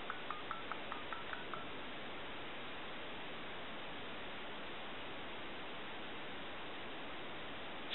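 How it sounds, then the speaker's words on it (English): A telephone keypad sends a quick run of about eight evenly spaced DTMF tones near the start, followed by a long stretch of steady hiss on the line. "I want to do a star, a 0, and our pound."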